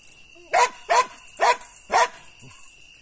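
Close, loud barking from a female dog confronting an armadillo: four evenly spaced barks in a steady rhythm, then a quieter, shorter yelp.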